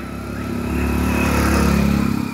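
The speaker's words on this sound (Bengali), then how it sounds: "আর এই বাইক নিয়ে উঠছে" A motorcycle climbs uphill on the Parasnath Hills in Giridih, Jharkhand, its engine droning with a strong pulsing hum that swells and rises in pitch as it labours close by, loud and unaccompanied by talk.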